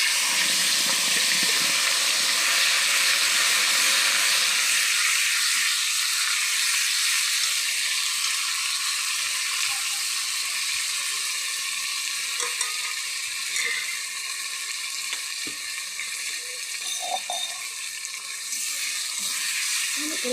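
Whole spices and three bay leaves sizzle in hot oil over a high gas flame, a dense, steady hiss that stays loud and close throughout, with faint stirring clatter now and then.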